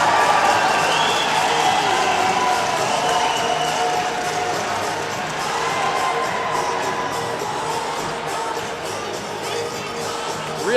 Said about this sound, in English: Really good crowd here at the Big Stick in Duncan, trying to urge their team on to try and tie the game here